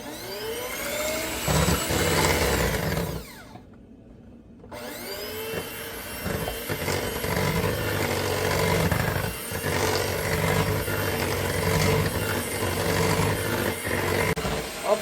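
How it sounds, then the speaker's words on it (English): A kitchen blender whirs steadily while blending sweet potato pie mix until smooth, loud and continuous, with a brief pause in the motor before it runs again. "Just keep blending this until there's no lumps in there or strings, and until it's smooth"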